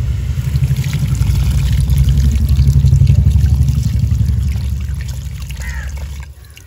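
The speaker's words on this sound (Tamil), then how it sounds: "அடுத்து புளி கரைச்சி தண்ணி ஊற்றுறேன்." Dissolved tamarind water being poured into a cooking pot of potato, drumstick and brinjal for a dried vanjaram fish kuzhambu: a loud, continuous splashing pour that swells midway, then tapers off and stops near the end.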